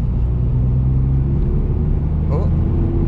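A Ford Fiesta ST TRS with a Stage 1 tune pulls in fourth gear from 40 on a bumpy Highland road, a steady loud low engine drone and road rumble heard from inside the car.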